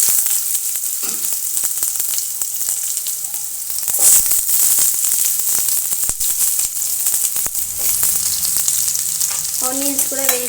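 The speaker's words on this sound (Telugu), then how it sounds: "ఆనియన్స్ కూడా వేసేసుకొని బాగా ఆనియన్ అనేది బాగా ఫ్రై అయితే అయిపోవాలండి" Chopped onions sizzle and crackle loudly in a hot pan for pulihora, a dense steady frying hiss with a few stirring scrapes and clanks throughout.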